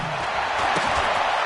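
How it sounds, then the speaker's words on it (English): Arrowhead Stadium crowd in a football video game, a broad roaring wash of cheering spectators, loud and sustained, briefly under a commentator's voice. "this is where the Arrowhead crowd can make it very tough."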